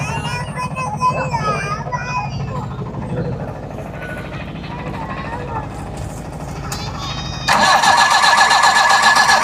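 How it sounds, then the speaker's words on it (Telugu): A motor boat engine cranks and catches, rising into a loud, steady roar near the end, with people talking over the rumble. "అమ్మో మోటార్ ఆన్ అయింది"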